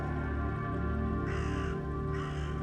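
A raven gives two harsh caws about a second apart over a steady droning background, used as a sound effect in a reading of Edgar Allan Poe's poem The Raven.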